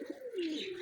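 A single soft, drawn-out coo from a pigeon feeding on scattered grain, faint and brief with no voices.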